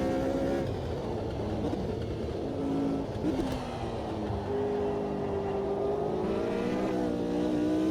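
Lotus 49 race car engine in the racing game Automobilista 2, a loud continuous drone with a shifting pitch as the car revs and accelerates, steady and close with no talk over it.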